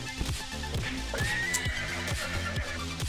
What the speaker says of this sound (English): Why is there a horse?